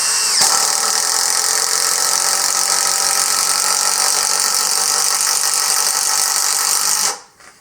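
A Hyper Tough 20V brushless impact driver runs loud and continuous for about seven seconds, driving screws into a wooden board, then stops abruptly.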